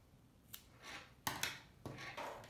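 Scissors snipping yarn on a crochet yoga mat holder, a few quiet separate cuts and rustles, close and faint, no voices.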